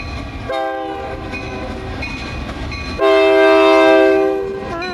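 A CN train rumbles past in Ladysmith as its horn blows loudly, a short blast and then a longer, louder sustained one near the end.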